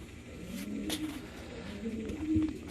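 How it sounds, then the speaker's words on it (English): A racing pigeon back at the loft after a 150-mile race coos softly in low, rolling murmurs, with other birds faintly around it and no talking. "This is the bird that just came back right there"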